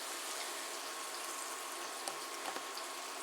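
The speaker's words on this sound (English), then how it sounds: "now this is frying pretty good" Chicken pieces frying in hot oil give off a dense, steady sizzle and crackle with a few sharper pops, close and continuous without speech.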